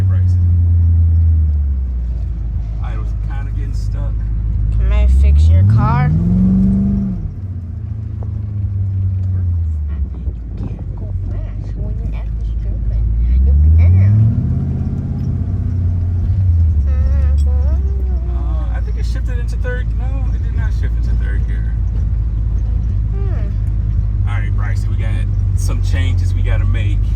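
A supercharged Ford Coyote V8 swapped into a car, idling with a deep steady rumble while the idle hangs high; engine pitch rises and falls in slow surges, heard up close.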